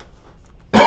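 A single sharp, loud cough bursts out close to the microphone at the very end, right after a near-silent pause, during an indoor opening of football trading card boxes.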